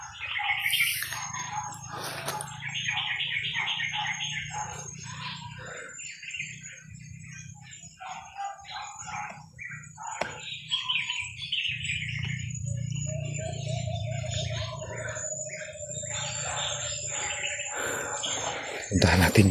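Birds chirp and call repeatedly outdoors, with bright tweets and calls over steady low background noise and occasional louder bursts near the start and end.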